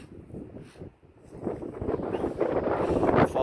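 Strong wind buffets the microphone outdoors on a homestead, a low rumbling roar that dips briefly then builds louder and steadier, with no speech.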